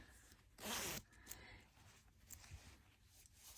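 Zipper on a gray hoodie pulled once in a quick, close, bright rasp lasting about half a second, followed by faint handling rustles and a soft click in a quiet room.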